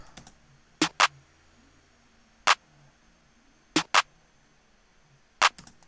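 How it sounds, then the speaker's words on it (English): An offbeat snare layered with a clap in a hip hop beat lands as sharp, bright hits, some doubled, spaced across a quiet background, fairly faint and with no talking. "And then I added this little offbeat snare."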